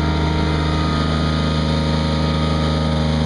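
Engine of a Ransomes AR 250 reel fairway mower running steadily up close, a loud constant droning hum with no talking.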